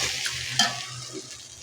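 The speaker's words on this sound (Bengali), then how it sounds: "এখানে চালটা ভাজা হচ্ছে" Rice being stir-fried in a pan for a spicy fish-head pulao, giving a steady close frying hiss with scraping stir strokes and one sharper scrape partway through, with no talk.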